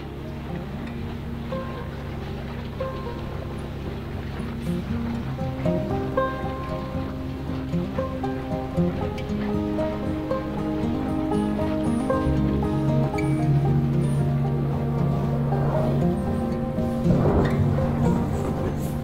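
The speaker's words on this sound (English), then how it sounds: "So the engine is running and we're heading off." Outboard boat engine running steadily as a small fishing boat heads out across Lough Corrib in Ireland during mayfly season, a continuous droning hum with water wash building slightly toward the end.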